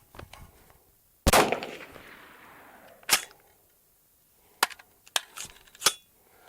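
An EMR-1 rifle fires PMC X-Tac green tip ammunition. One sharp, loud report is followed by a decaying echo, then a single shot and a quick cluster of several more cracks at uneven intervals.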